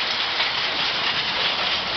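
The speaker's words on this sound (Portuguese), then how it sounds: "Chuva de granizo, amor. Olha o tamanho das pedras." A steady, dense roar of large hailstones pelting the ground and hard surfaces in Ribeirão das Neves, Brazil, loud and continuous with no pauses or voices.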